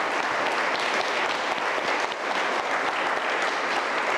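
Steady, dense applause from a church congregation, continuous clapping filling the whole stretch at an even, fairly loud level.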